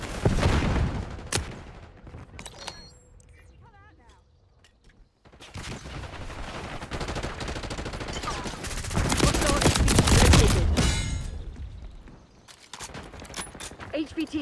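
Dense bursts of automatic gunfire and explosions fill a Black Ops 6 match, with sustained rapid firing that swells and fades. There is a brief lull near the middle, and radio-style voices speak under the shooting.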